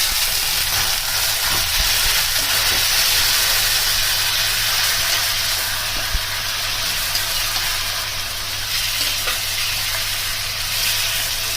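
Water splashed into a hot pan of Bengali fish head curry (muri ghonto) sets off a steady broad hiss of steam and sizzle that holds without break for about eleven seconds, loud and close, with no voices.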